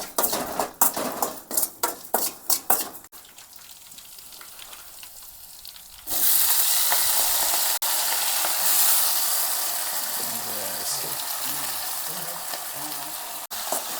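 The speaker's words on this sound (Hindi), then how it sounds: "मिर्चा जीरा पहले डाल दे रहे हैं।" Chillies and cumin sizzle in a kadhai with no oil at a hermit's hut, a steady loud hiss taking over after a few sharp clatters of utensils and stirring at the start.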